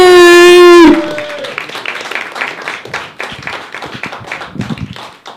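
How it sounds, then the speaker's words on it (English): After a loud sustained tone, a crowd at an open mic stand-up comedy show breaks into lively applause, dense clapping that gradually thins out while scattered cheers rise. "Can we give a thunderous round of applause to your host, Mr. Greg Dobroski!"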